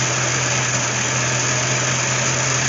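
Classic car A/C compressor running rough while the engine idles, a steady, dense mechanical rumble and rattle with a constant low hum, close and continuous throughout with no talking.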